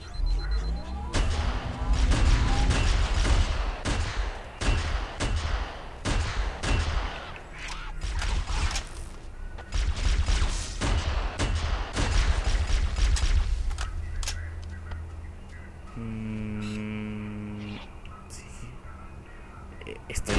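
A DMR rifle in the Halo CE SPV3 mod fires repeated sharp shots in bursts amid heavy combat, with someone talking at intervals and a tonal game sound near the end.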